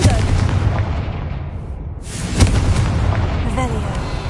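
Spell blasts from Confringo casting in the video game Hogwarts Legacy, a booming explosive burst rising near the middle over a dense, continuous bed of game noise and ambience.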